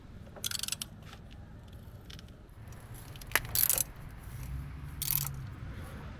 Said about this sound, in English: insert the spacer at the front foot peg mount and tighten the foot pegs